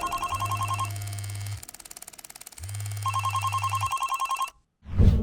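A telephone rings in two long bursts of rapid trilling bell tones separated by a pause, loud and close, followed by a brief thud as the ringing cuts off.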